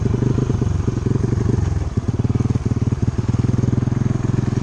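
An amphibious ATV with paddle-style tires drives in gear, its small engine chugging in a loud, rapid, steady throb that dips briefly near the middle before pulsing on.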